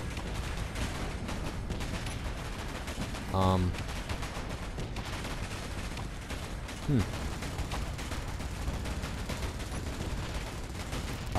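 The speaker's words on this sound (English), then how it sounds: "There are at least several guns that are firing right now." Several Gatling cannons on a Caligula-class battle cruiser in Space Engineers fire in a continuous, rapid mechanical rattle under a steady low drone, with a couple of brief louder thumps along the way.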